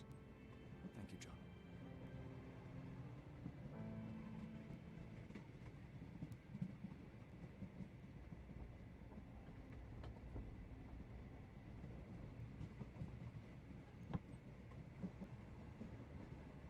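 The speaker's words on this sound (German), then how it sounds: "Sieht cool, so ein Zug." A train in the video game Sherlock Holmes The Awakened rumbles with a low, steady rolling drone and faint clatter, running quietly and continuously beneath the game's sound.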